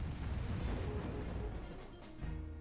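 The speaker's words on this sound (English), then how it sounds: "We stopped it at the same time the cannon hit us." Cannon shot striking the player in the Toy Story 2 video game, a low booming blast with rumbling noise, then a second thud near the end.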